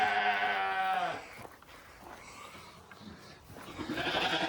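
Sheep bleating in a flock on a farm, one loud nearby bleat at the start, then fainter scattered bleats and a louder burst at the end.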